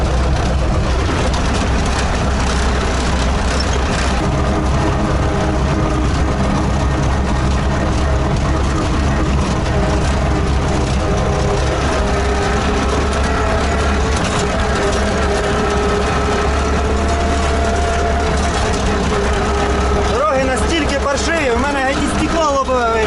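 A loud, steady engine drone from a T-16 tractor rumbles throughout, heavy and low, with a voice talking over it.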